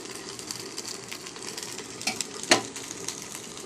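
Cumin seeds, fennel and panch phoron spices fry in hot oil with a steady crackling sizzle, soft scattered pops and one sharp utensil clack near the middle.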